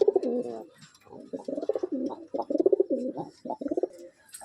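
A large male giribaz pigeon of the western type coos in repeated pulsing bursts, close and clear, each throaty phrase separated by short pauses.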